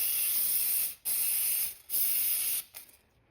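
MAF airflow sensor cleaner hisses from an aerosol can onto the mass airflow sensor of a Honda Accord in three close, loud bursts separated by short pauses, the last one trailing off briefly.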